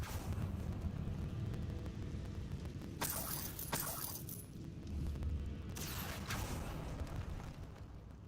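Bombarda blasting spells go off in Hogwarts Legacy, two fairly faint crackling bursts landing a few seconds apart over a low, steady game background rumble.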